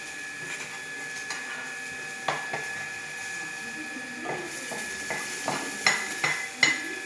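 Soya chunks frying in a pan with soy sauce, chilli sauce, vinegar and tomato ketchup, heard as a faint sizzle under clinks and scrapes of a utensil against the pan, with someone speaking over it.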